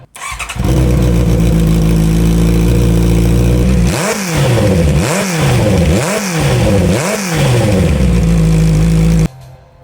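A Honda CBR650R with a Musarri exhaust and its baffle removed idles loudly, then rips through four sharp, rising-and-falling revs in a row before settling back to a deep, steady idle.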